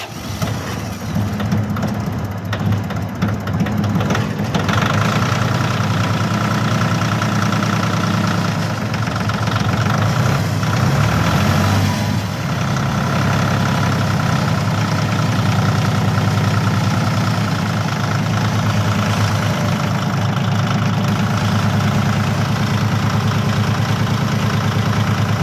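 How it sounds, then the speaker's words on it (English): A Yanmar 226 tractor's diesel engine idles steadily just after a cold start, a close, loud, continuous chugging rumble that holds unchanged throughout with no talking. "226 Yanmar, cold start."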